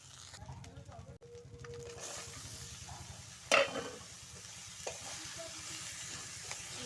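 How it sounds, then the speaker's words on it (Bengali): Bottle gourd pieces being stirred and fried in a pan of spiced oil over a wood fire for a fish-head lau ghonto, with steady sizzling and scraping stir strokes, one sharp clatter partway through. "লাউগুলো ভালো করে নেড়ে একটু কষিয়ে নেব।"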